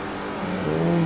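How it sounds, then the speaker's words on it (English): Nissan Super GT race car engine in Forza Motorsport 4, a steady loud drone that shifts pitch midway as the revs change, heard alone over a brief moment. "I'm absolutely going for a turn one dive here on Takahashi."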